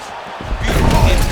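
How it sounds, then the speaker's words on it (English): A fighter slams an opponent onto the mat in EA Sports UFC 6, a heavy thud that rises out of crowd and arena noise and swells into a loud rumbling roar. "Slams his opponent down"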